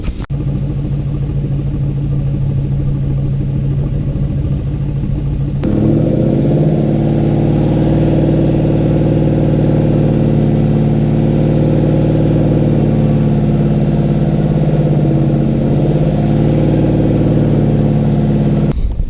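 A Ford Crown Victoria engine idling during a Sea Foam treatment, a loud steady low rumble that shifts to a slightly higher, fuller drone partway through and holds evenly to the end, with no talk.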